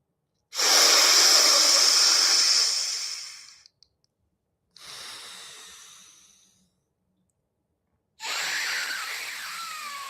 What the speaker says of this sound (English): Continue at your own pace for the next 8 breaths